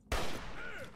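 A single loud gunshot in Fallout 3 lands a headshot, a sharp crack followed by a ringing tail that fades out.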